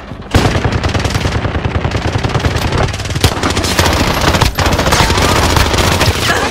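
Call of Duty gunfire in a trios match rattles as sustained automatic bursts, loud and close, with overlapping shots and a short lull midway.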